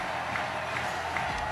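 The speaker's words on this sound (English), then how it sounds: "The crowd going wild." A stadium crowd roars at the 2022 AFF Women's Championship final between the Philippines and Thailand, a dense, steady wash of cheering and applause from many distant voices with no clear talk over it.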